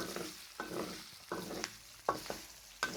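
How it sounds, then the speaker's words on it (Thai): Pork rinds stirred in hot oil that is rendering out in a pan: steady sizzling under a rhythm of scraping stirring strokes, about one every half second, close and clear, with no talking. "ตอนนี้น้ำมัน น้ำมันเริ่มออกมาเราก็ต้องคนตลอดเลยนะคะ"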